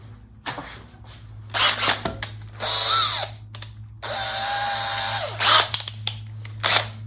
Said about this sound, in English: And we'll put it in a drill.